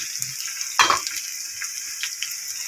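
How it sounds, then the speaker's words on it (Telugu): Green and dried red chillies frying in hot oil give a steady close hiss and crackle, with one sharper burst of sizzling early on. "పచ్చిమిరపకాయలు ఇలా దోరగా వేగిన తర్వాత అందులో మనం ఎండుమిరపకాయలు,"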